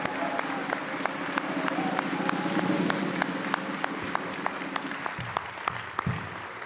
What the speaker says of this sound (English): Let's give all of tonight's award recipients another big round of applause.